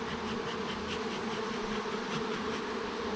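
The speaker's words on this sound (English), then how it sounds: "These bees, they just, man, they flood out like crazy, make it hard to work." Honey bees swarming out of an open hive make a dense, continuous buzzing drone, close and steady for the whole stretch with no talk.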